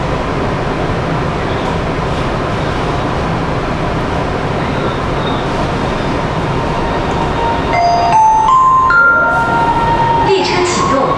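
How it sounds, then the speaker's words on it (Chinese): A Wuxi Metro Line 1 train pulls away on the underground section: a loud, steady rumble fills the cabin, and rising motor whine tones climb in steps near the end. "列车启动，请扶好站稳。"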